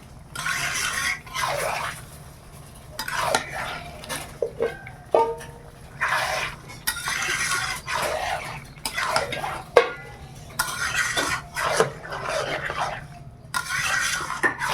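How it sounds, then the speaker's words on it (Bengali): Mutton fried with spice paste in a pan, stirred with a metal spoon, giving intermittent scraping and clattering strokes over a soft sizzle, with a voice speaking now and then. "এবার মাংস দিয়ে দিলাম এইবার মাংসর সঙ্গে মশলাটা কষানো মাংসও কষানো হবে"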